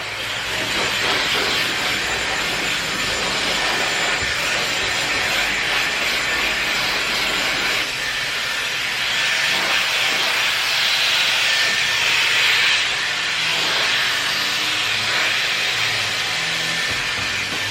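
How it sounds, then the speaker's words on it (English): A steady, loud airy whoosh of a Dyson Supersonic R hair dryer runs continuously throughout, with a broad hiss and slight fluctuations as it moves, no voices. "I'm gonna take my Dyson, the Supersonic R blow dryer, which I love, super lightweight"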